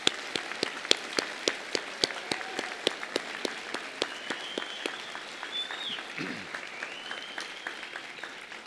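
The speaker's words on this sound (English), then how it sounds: "How about a round of applause for our new student doctors?" An audience at a white coat ceremony for new osteopathic student doctors claps in steady applause, sharp rhythmic claps from nearby hands over a softer crowd wash, with faint voices briefly audible.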